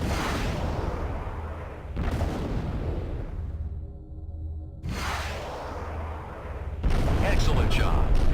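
Harpoon missiles launched in repeated volleys at a transport ship in the space combat game Freespace 2, heavy booming bursts over a constant low engine drone, with no voices.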